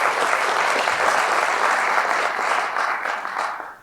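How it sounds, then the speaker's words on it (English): An audience at a school dedication ceremony applauds, a dense, steady round of clapping lasting a few seconds before fading out. "So we should give them a round of applause as well."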